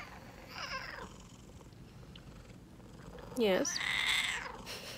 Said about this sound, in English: If you're new to my cat, she's not mad. She's just Siamese.